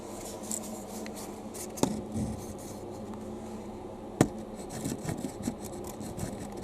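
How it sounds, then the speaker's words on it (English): A steady low hum and whir of a small electric heater runs throughout, with a few faint scrapes and knocks on top. "The noise you can hear, by the way, is my little electric heater."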